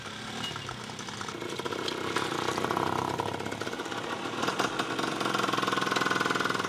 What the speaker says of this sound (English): At dawn the next day, the motorbike convoy carrying the components of the mobile clinic sets out.